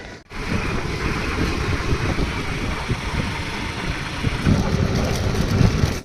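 A scooter engine runs steadily and close by, a continuous low rumble with a slight rise in the last second or so.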